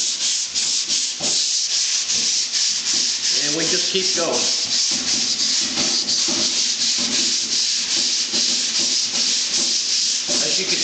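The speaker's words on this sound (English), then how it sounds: "we're sanding off the black." Hand block sanding of primer and black guide coat on a car body panel, a steady rasping scrub in repeated strokes, close and loud throughout, with someone speaking briefly over it.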